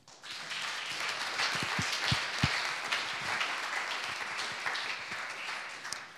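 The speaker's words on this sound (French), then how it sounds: "Je vous demande d'applaudir Hendrik Huvald." Audience applause at a public event with a guest being welcomed, steady sustained clapping from many hands filling the space throughout, with a few sharper individual claps standing out near the front.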